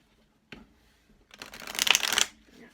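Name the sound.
shuffling a deck of cards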